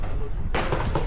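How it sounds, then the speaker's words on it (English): A single sharp gunshot rings out at a steel challenge shooting match, a loud close crack midway through after a moment of background noise. "You're shooting low."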